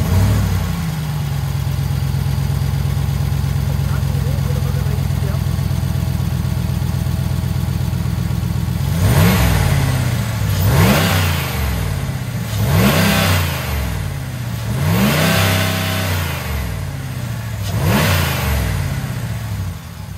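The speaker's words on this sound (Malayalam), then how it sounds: "ആദ്യം നമുക്ക് വണ്ടി ഒന്ന് സ്റ്റാർട്ടാക്കാം, ഒച്ചയും കാര്യങ്ങളും നമുക്കൊന്ന് ശ്രദ്ധിക്കാം." A Ram 1500 truck with a Hemi V8 fires up and settles into a loud, steady idle, then gets five sharp revs, each one rising and falling back, at close range with no talking.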